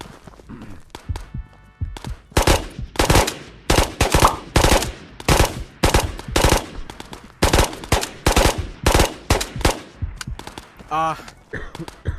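Rapid bursts of automatic gunfire in the video game Ghosts of Tabor, loud repeated volleys of shots in quick clusters with brief pauses between them.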